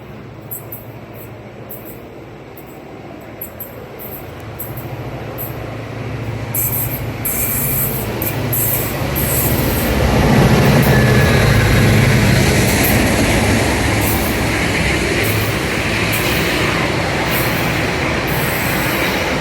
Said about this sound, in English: Pacific National Diesel's 8103 and 8167 climbing the grade with Cement Train 1921